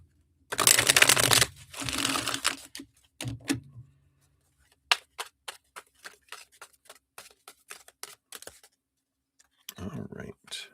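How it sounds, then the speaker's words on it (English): A deck of oracle cards is shuffled in repeated riffling bursts, then a run of quick dry card snaps and taps, close and fairly quiet, with a speaking voice briefly present. "Let's shuffle these up."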